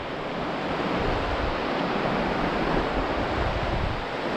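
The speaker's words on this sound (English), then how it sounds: "Very windy at this section here." Steady, loud wind roaring and buffeting against the microphone on a mountain bike ride on the South Downs, a continuous broadband rush with no pauses.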